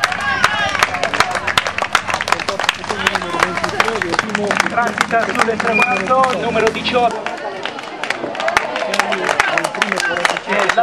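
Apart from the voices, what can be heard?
applause for cyclists crossing the finish line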